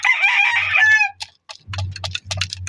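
A rooster crowing loudly and close by in one drawn-out call, followed by a quick run of clucks and scratchy chicken sounds, with no talking.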